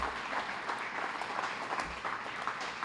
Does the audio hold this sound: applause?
yes